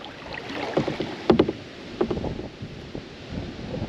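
A kayak glides down a Fox River tributary in Wisconsin on a windy day, with soft paddle splashes and water swishes over a constant rush of wind buffeting the microphone.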